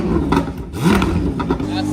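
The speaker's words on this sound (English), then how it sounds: "This is a Valvetronic exhaust." A Corvette fitted with a titanium Valvetronic exhaust revs nearby, its deep engine roar swelling and settling under continuous conversation.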